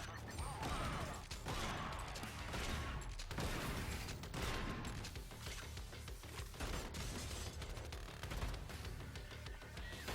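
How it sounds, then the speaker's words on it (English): Shotgun blasts from the roguelike shooter Bunker Punks ring out amid a dense, continuous barrage of game gunfire and impacts, loud and busy throughout, with a voice talking faintly underneath. "now my shotgun's gonna do some damage"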